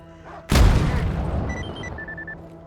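A single loud, sharp gunshot in the game S.T.A.L.K.E.R. Anomaly, with a booming low end, followed by a ringing decay and a few faint electronic tones.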